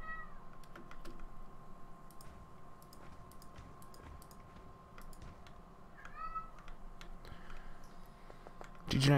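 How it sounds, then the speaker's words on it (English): A cat meows several times at close range over steady background noise and keyboard clicking, the cries rising and falling in short bursts, with a louder meow at the end. "my entire life sounds like a cat meowing"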